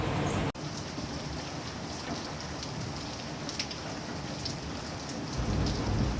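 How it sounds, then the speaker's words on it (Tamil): Steady rain falling in a village, easing after a heavy morning downpour; a dense, continuous hiss of drops close by, filling the whole stretch alone with no voices. "காலையிலே செம மழை வெளுத்து வாங்குச்சு இப்போ வந்து லைட்டாக குறைஞ்சிருக்க டைமில் நான் வந்து வீடியோ எடுத்தேன்"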